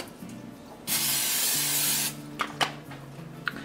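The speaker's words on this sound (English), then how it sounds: "I'm gonna just spray it with a little bit of this olive oil spray." Olive oil spray bursts from a can onto a small frying pan in one steady hiss lasting about a second, with quiet background music and a few small clicks and taps after it.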